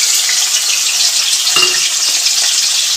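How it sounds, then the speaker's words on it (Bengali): Steady, loud hiss of onion, garlic and chili frying in oil in a pan, constant and close with a brief stir in the middle. "কড়াইতে তেল বের আমি পেঁয়াজ রসুন আর লঙ্কাটা দিয়ে দেবো, দিয়ে ভাজা করে নেব"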